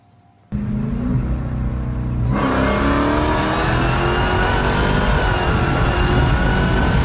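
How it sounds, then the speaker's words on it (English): A Dodge Hellcat, bumper removed, starts up and then roars through a sustained wide-open-throttle pull. The engine note stays loud and close for several seconds as it climbs, and it comes through with no talking. "we're gonna take it out, see if we can do some wide open throttle pulls"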